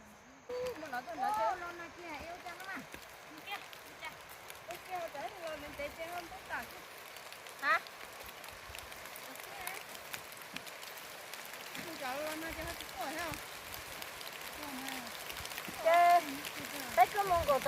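Rain falls over an outdoor rural farm field as a constant soft hiss with scattered drops, while people talk over it throughout.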